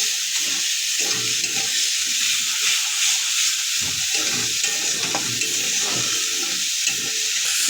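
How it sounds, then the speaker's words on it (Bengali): A spice mix of garlic, chili, cumin, salt and turmeric fries in a pan while being stirred, producing a loud, constant sizzle with scraping and stirring strokes underneath. "এটাকে এবার আমি নাড়াচাড়া করবো ভালো করে। এটা মশলাটা কষা হবে।"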